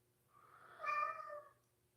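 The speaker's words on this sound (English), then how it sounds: "Silly cat doesn't want to go into the cat door." A single drawn-out meow from a cat waiting at a cat door indoors, close and fairly soft, swelling and then fading, with no speech.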